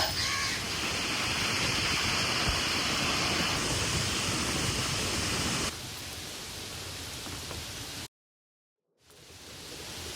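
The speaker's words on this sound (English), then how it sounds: "it's absolutely pouring outside" Heavy rain pours outside as a dense, steady roar that drops to a softer wash partway through, cuts to silence for about a second, then returns.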